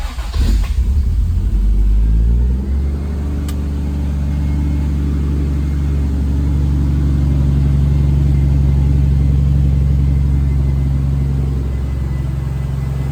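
A Toyota Supra MK3, running for the first time since an engine swap, starts with a brief crank and then settles into a steady, loud, close idle with a low rumble that holds for over ten seconds.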